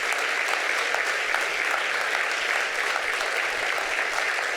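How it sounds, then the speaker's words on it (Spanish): A church congregation gives dense, sustained applause during a sermon, a thick wash of many hands clapping at once, steady and fairly loud throughout, with no voice rising above it. "¿Le podríamos dar un fuerte aplauso al Señor, hermanos, por sus bendiciones para con nosotros?"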